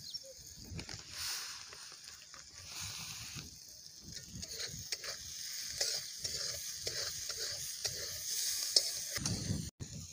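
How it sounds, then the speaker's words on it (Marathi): Chopped tomatoes are sautéed in a pan, giving a soft, steady sizzle with the occasional scrape and stir of a spoon, faint and close with no talking. "टोमॅटो पण चांगलं परतून घ्यायचं आहे."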